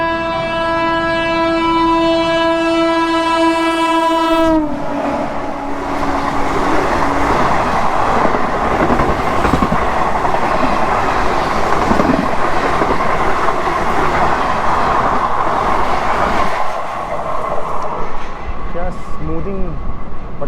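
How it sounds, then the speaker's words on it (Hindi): An express train overtakes on smooth parallel rails while riding aboard the 18237 Chhattisgarh Express, opening with a long loud horn blast that cuts off, then a sustained close roar and rattle of passing carriages. "फिर ये एक और कोई एक्सप्रेस है वो इसको क्रॉस कर रही है"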